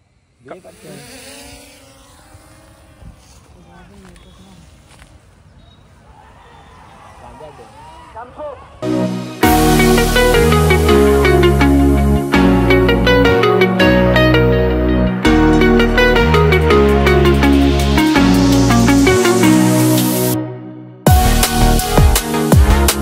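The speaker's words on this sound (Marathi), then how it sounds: "आता ड्रोन उडवतो आता आम्ही" A drone lifts off and flies in a village during bullock-cart races, its loud, steady electric whine with sharp rotor harmonics starting after a quiet stretch, dropping out briefly and resuming close to the recorder.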